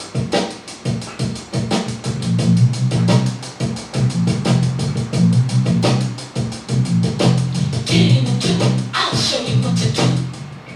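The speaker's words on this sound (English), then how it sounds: "And the drum break sounds like this." Drum break with the bass entering early, a tight, steady run of punchy hits over a thick low bass line, loud and continuous for about eleven seconds with a brief thinner patch near the end.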